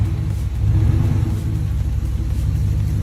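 Truck engine straining and revving hard with a heavy low rumble while pulling a stump, steady and loud throughout at close range.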